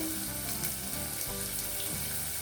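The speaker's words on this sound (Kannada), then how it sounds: "ಕಟ್ ಮಾಡ್ಕೊಂಡಿರೋ ಬೆಳ್ಳುಳ್ಳಿ ಹಾಕ್ಕೊಂಡೆ, ಈರುಳ್ಳಿನೂ ಹಾಕೋತಾ ಇದ್ದೀನಿ, ಹಸಿಮೆಣಸಿನ್ಕಾಯಿ. ಈಗ ಎಲ್ಲನೂ ಚೆನ್ನಾಗಿ ಹುರ್ಕೊಳ್ಳಿ" Chopped garlic, onion and green chilli sizzle in a pan for a long beans stir fry, a steady, dense frying hiss with no pauses.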